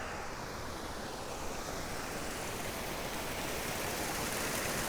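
Gore Creek rushes with snow melt from the top of the mountain, a steady broadband roar of fast-moving water, loud and continuous throughout with no voices.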